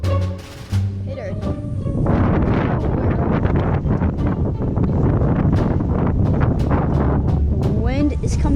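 Steady, rushing wind buffets the microphone outdoors, loud and continuous with gusty flutter, and a voice speaks briefly at the start.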